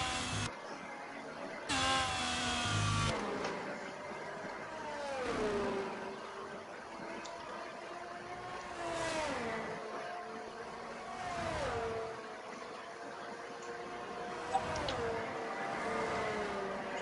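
A race car engine on the Hungary track in a sim racing game, revving and climbing through gears with repeated rising whines and shifts, moderately loud, with faint talking from people in the background.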